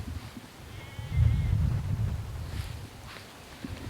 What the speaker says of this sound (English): Look behind me. There are some sheeps.